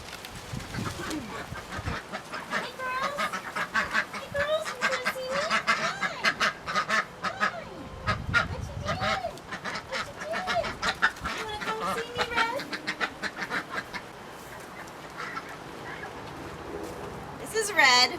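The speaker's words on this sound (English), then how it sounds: "this is my chicken and duck run and coop" Chickens and ducks in a backyard run and coop honk, quack and cluck in a busy, continuous chorus at close range, with a person talking over them throughout.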